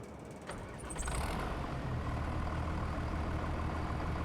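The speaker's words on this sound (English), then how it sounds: "let's start it up." A simulated John Deere tractor with a 4-cylinder engine cranks and starts in a farming video game, rising within the first second into a steady, loud, close idle rumble that holds to the end without talk.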